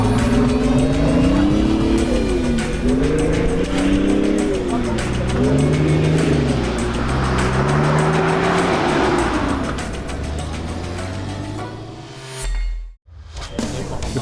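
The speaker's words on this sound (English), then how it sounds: "With the roar of engines, the convoy rolls out." Engines of a 4WD convoy setting off near Perth rev and grumble up close, with rising and falling engine tones layered over a heavy low rumble before a sudden dropout near the end.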